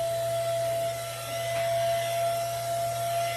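A small Dollar Tree three-speed handheld vacuum runs on its lowest speed, giving a steady, close, even motor whine with a constant hum and no talking.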